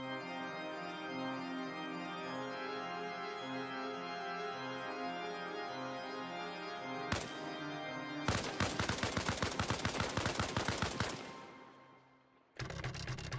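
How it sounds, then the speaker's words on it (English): Game gunfire in an ARMA mod: after a stretch of sustained organ music, a single loud shot rings out, followed by rapid automatic bursts that end abruptly, then another sharp burst. "The sound of gunfire and organs."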